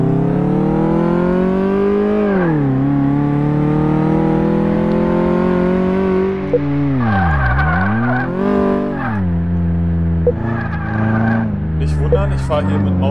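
A car driven in Car Mechanic Simulator 2018, its engine droning loudly and continuously, pitch rising and falling with revs, dipping sharply and surging back, with someone talking over it.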